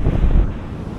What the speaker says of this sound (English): Found a beautiful beach here.